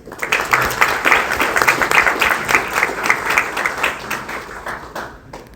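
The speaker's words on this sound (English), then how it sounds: "please give a warm round of applause" An audience at a policy institute forum breaks into steady applause, many hands clapping together in a dense, sustained burst that fades out near the end.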